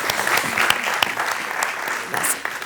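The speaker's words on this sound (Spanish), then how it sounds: "un fuerte aplauso." Steady, dense audience applause fills a symposium hall, many hands clapping continuously at moderate loudness with no voices over it.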